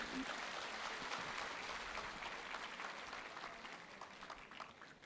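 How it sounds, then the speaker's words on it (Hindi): An audience at a Kiran Gems company event breaks into steady, dense applause that fills the room, starting strong and tapering gradually over several seconds. "जोरदार तालियां होनी चाहिए।"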